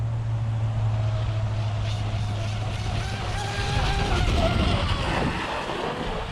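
Proboat BlackJack 42-inch RC boat fitted with an ABC 1917 prop, its motor whining and rising in pitch as it speeds up over choppy water on a windy day, with steady wind buffeting throughout.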